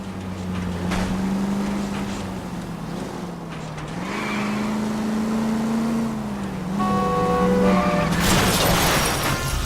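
A car in the 1940s Los Angeles of L.A. Noire revs hard while chasing and ramming another car's rear wheels. The engine drone rises and falls, and a louder crunching surge comes near the end.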